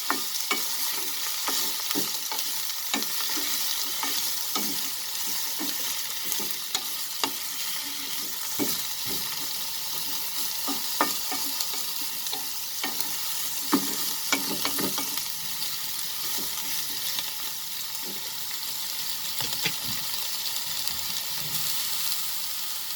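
Eggplant and fenugreek leaves sauté in a pan over medium-high heat, giving a continuous close sizzle broken by repeated scraping and stirring knocks, with no talk.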